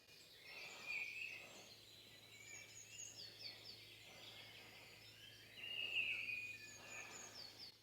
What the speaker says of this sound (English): just listen to the birds in the trees.